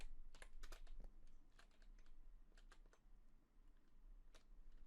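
Rapid, dense keystrokes on a computer keyboard, clattering in quick bursts throughout at moderate loudness with no talk, as commands are typed into a Minecraft game running the Boruto modpack.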